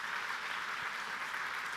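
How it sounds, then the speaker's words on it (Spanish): Church congregation clapping for the Lord during a Hillsong Spain sermon, a continuous hiss-like wash of distant applause held at a steady, moderate level for a couple of seconds. "Dale un aplauso más fuerte al Señor por eso."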